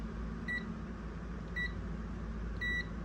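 A multimeter on continuity mode tests a switch from a Wolf microwave and gives three short, evenly spaced high beeps about a second apart over a low, constant background hum.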